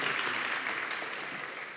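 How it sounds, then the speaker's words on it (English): An audience applauds the panelists at a justice-themed event, a continuous wash of clapping that is steady and fairly even, easing slightly at the end. "let's give another round of applause for our panelists"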